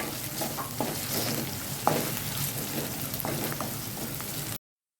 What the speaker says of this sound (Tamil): இஞ்சி பூண்டோட பச்சை மணம் போகிற வரைக்கும் நல்லா வதக்கி விட்டுடலாம்.